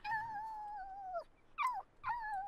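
A Dalmatian puppy in The Sims 4 Cats and Dogs whimpers in three thin, high, drawn-out whines. The first is long and falling, the next two are short, and all are heard close and alone.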